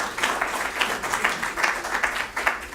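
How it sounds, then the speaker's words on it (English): An audience at a CCIM Georgia Chapter legislative update meeting gives a round of applause, a moderate, steady patter of many hands clapping in a room that keeps going throughout. "if you would help me give them a round of applause"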